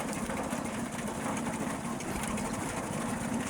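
A tractor with a disc plow attached runs at a low steady idle, a faint continuous rumble heard alone.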